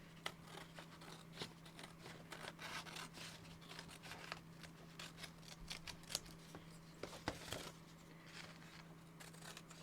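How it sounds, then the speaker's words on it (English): Scissors cut through scrapbook paper pockets in a craft project, snipping and sliding quietly up close. The cuts are irregular, with faint rustling of paper and a steady low hum underneath. "I'll cut them both out together"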